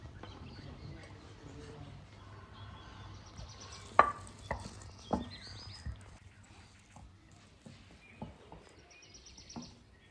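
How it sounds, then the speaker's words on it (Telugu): Boiled, peeled potatoes mashed by hand into a smooth paste, heard as quiet, soft squishing with a few sharper knocks in the middle. "ఇప్పుడు మనం ముందుగా ఉడకబెట్టిన ఆలుని స్మాష్ చేసుకుందాం"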